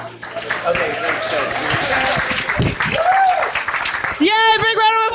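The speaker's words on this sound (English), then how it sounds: "Big round of applause, leader of public policy" An audience at a zero waste summit applauds, a broad wash of clapping heard under a speaker's voice and excited cheering.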